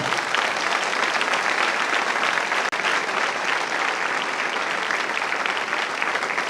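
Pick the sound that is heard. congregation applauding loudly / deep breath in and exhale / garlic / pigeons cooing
congregation applauding loudly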